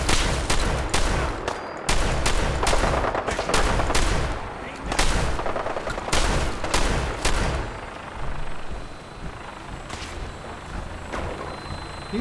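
Shotgun fire in Fallout 4 during a firefight: many loud, booming blasts in quick succession, thinning toward the end, with a voice speaking under the shots.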